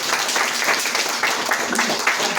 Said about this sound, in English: So now a round of applause for Joe and for the Jenners.